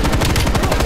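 Rapid automatic gunfire in Call of Duty Black Ops Cold War, a loud close burst of evenly spaced shots filling the whole moment without talk.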